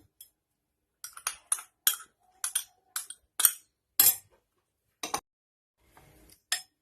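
A spoon clinks against a bowl while chopped tomato, onion, green chilli and coriander are mixed for a bread omelette, about a dozen short, sharp taps in uneven bursts in an otherwise quiet kitchen.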